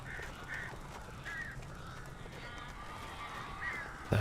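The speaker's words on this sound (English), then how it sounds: "All right, Barry, I'm coming with all your damn birds." Birds in Alan Wake Remastered give scattered, harsh calls over a faint, steady ambient background, with a brief thump at the end and no voices.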